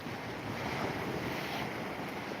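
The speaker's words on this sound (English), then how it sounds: "The sea just nicely coming in, lapping at the rocks." Sea waves lapping at rocks along the coast between Hollym and Withernsea, a steady close wash of surf mixed with gusting wind noise and no talking.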